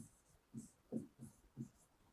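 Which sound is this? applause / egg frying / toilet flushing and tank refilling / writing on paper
writing on paper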